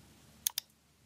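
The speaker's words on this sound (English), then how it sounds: "We create the first column by clicking the previously created nodes one by one." Two quick, crisp computer mouse clicks sound close together while nodes are picked in RFEM 6 structural software. They are near and sharp over a quiet background.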